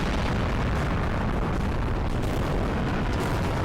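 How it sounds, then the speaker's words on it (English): A green gas-style explosion attack in the video game Global Defence Force, heard as a dense, continuous roaring blast that stays loud and broadband for several seconds without any talk over it. "There's that wonderful green gassy explosion attack again."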